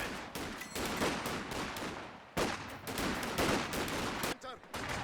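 Dense rifle and machine-gun fire rattles almost continuously through a Company of Heroes 2 battle in a 2v2 match, loud and close, with a brief gap midway.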